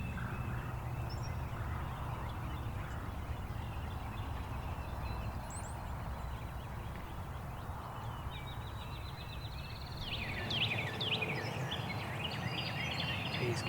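A wild turkey gobbler in a spring woodland calls from a moderate distance, with faint gobbles and bird chatter over a steady outdoor background and a few louder, nearer calls toward the end.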